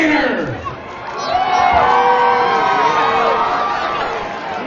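A large outdoor crowd at a monster truck freestyle show in Victorville, California roars and whoops in a loud, sustained swell, with shouting voices rising and falling within the din.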